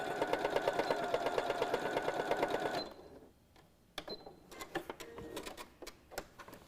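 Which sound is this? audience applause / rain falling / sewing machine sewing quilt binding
sewing machine sewing quilt binding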